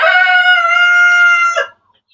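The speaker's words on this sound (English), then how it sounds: "That's our old hen." An old hen lets out a single drawn-out, tonal call lasting about a second and a half, loud and near, before it cuts off into silence.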